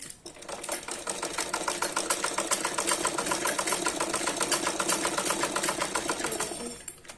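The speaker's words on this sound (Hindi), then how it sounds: "मैं इसे इस तरह से सीधी सिलाई लगा लूंगी" A sewing machine runs a straight stitch along a blouse seam, its fast, steady mechanical clatter continuous and close for nearly the whole stretch before stopping at the end.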